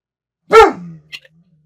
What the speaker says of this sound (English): responding to somebody barking in the main house